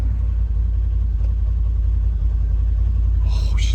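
A dump truck's engine idles quietly in a steady, even low rumble with no revving, close by and alone; a faint hiss rises near the end.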